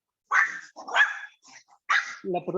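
A small dog barks close by, three sharp yaps in quick succession with a shorter yip at the end, loud against an otherwise quiet indoor background.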